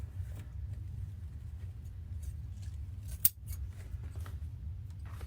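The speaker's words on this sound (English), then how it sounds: "So I'm just going to fold it and cut it at an angle." Scissors snip ribbon tails at an angle for a bunny head wreath, faint light cuts with one sharper snip near the middle over a low background rumble, no talk.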